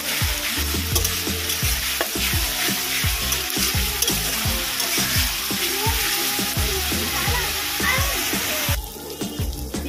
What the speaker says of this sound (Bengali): দেবো ঘষে রাখা পেঁয়াজ। এটাও ভালো করে ভেজে নেব।